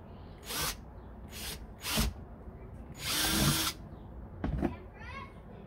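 Power drill boring a hole in plastic, several short whining bursts of the motor with one longer run in the middle, close and loud, with brief quiet gaps and faint background voices between.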